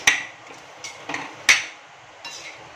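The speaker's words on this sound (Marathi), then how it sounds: "बटाटे कापलेले होते ते घालून घ्यायचे, छान ढवळून घ्यायचे" Cut potatoes stirred in a metal pan, a spoon knocking and scraping against the pan in several uneven clinks and taps, close and fairly clear, with no talking.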